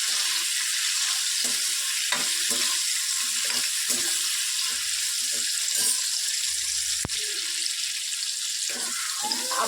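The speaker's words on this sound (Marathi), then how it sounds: "असं हलवून घ्यायचे आहेत कारण की पूर्ण सगळ्याला शिजायला हवे भेंडी सगळीकडला म्हणून आपण असे हलवून घेणार आहोत" Okra for a dhaba-style masala bhindi fries in a pan with a constant, loud sizzle. Repeated scraping and clattering stirs from a spatula come through at an uneven rhythm.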